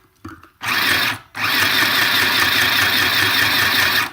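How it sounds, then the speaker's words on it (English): Sewing machine stitching coffee-dyed paper for a journal signature, starting after a short pause and running in a fast, steady mechanical whir, close and loud. "off goes my sewing machine as well."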